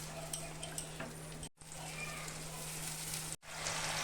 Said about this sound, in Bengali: এখন আমি ভালো করে কষিয়ে নিব মশলাটা।